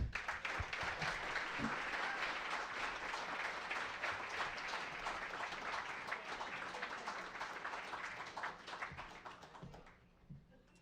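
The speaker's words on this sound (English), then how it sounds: "would you please give a big round of applause for my friend Liz Crokin" Crowd in a saloon applauds for Liz Crokin, a sustained round of clapping that holds steady and then gradually thins out and fades near the end.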